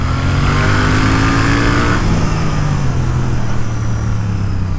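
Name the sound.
Royal Enfield Interceptor Bear 650 engine revving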